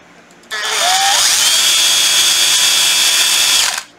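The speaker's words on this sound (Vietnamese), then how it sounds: "Khoan, Makita" A Makita 14.4V brushed cordless drill spins up from silence, whines steadily at high speed for about three seconds, then stops abruptly, loud and close with no voices.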